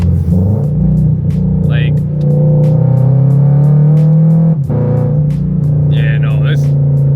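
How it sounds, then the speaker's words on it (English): A car fitted with a JDL front pipe rumbles and revs, a deep, loud exhaust drone that swells and dips close by, with someone talking over it. "I'm actually very happy with how the car sounds right now"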